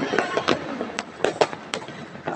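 New Year fireworks going off at a moderate distance, a scattered series of sharp pops and crackling bursts over a steady noisy backdrop, with faint voices in the background.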